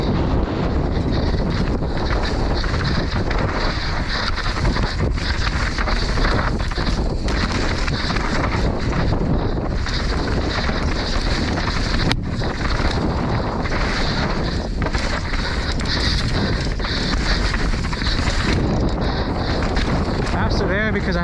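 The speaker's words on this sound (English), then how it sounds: "Oh, windy." Strong wind roars steadily across the microphone for the whole stretch, a constant loud buffeting rush with faint rumbling underneath.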